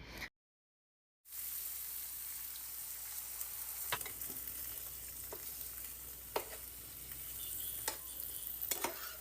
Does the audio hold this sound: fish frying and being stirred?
yes